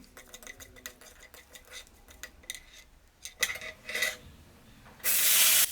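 Mustard seeds and dried red chillies going into hot oil for banana stem stir fry: irregular tiny pops and clinks of seeds spattering, then a sudden loud sizzling hiss bursting up at the close.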